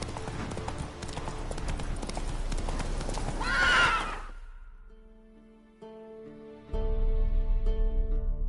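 Roach, a horse in The Witcher 3, gallops with rhythmic clip-clop hoofbeats and neighs loudly partway through, then the hooves give way to a quieter game soundscape before resuming strongly.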